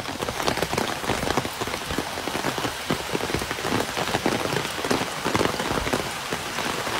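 Heavy rain pours down steadily, a loud dense hiss of drops striking surfaces close by, continuous and unbroken with no voices.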